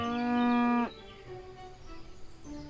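A cow in the farming video game EverDream Valley lets out one loud, drawn-out moo that cuts off sharply, followed by quieter game ambience.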